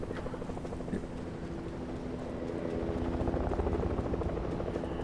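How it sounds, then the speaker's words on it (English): Helicopter flying in the video game Fortnite, a steady loud rotor thrum with a rapid chopping pulse that grows slightly stronger toward the end, heard alone without talking. "I hear a helicopter."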